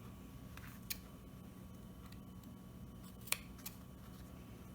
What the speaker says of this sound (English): you're just going to cut on these short lines here.